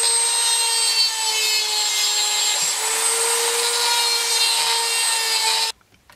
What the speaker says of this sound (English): You kids ever heard of a Dremel?